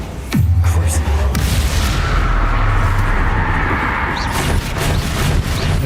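Bombarda explosion spell in the video game Hogwarts Legacy: a sudden loud boom followed by a sustained rumbling blast and crackling debris lasting several seconds.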